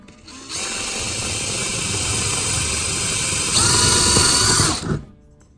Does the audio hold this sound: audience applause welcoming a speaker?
no